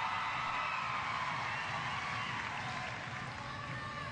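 Spectators at a reining horse competition at the 2010 World Equestrian Games applaud and cheer, a dense, continuous wash of clapping with a few whoops, steady and moderately distant throughout.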